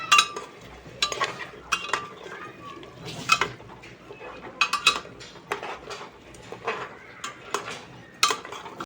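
A spoon stirs Kolhapuri-style mutton masala in a metal pot, making irregular clanks and scrapes against the pot. The sharp hits come close and loud, with brief pauses between them.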